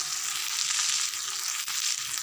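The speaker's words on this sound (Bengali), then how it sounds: "কেটে রাখা ছোট ছোট টমেটো কুচি দিয়ে আবারও কষে নেবো" Chopped tomatoes and spices sizzling as they fry in a pan for a fish-head and radish curry, a steady, dense hiss that fills the whole clip with no talking.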